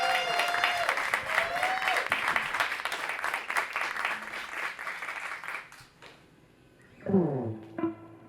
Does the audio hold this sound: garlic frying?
no